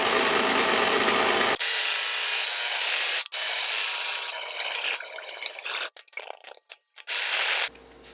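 Electric mixer beating chocolate chip cookie batter made from scratch, a loud continuous motor whir near the microphone that stutters in short on-off bursts toward the end before running steadily again.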